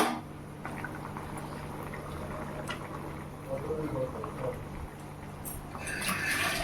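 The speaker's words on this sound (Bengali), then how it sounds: "তো তরকারি ফুটে উঠেছে" A pot of potato and eggplant curry with green chillies bubbles and simmers on the stove, giving a steady low churning hiss with faint popping throughout.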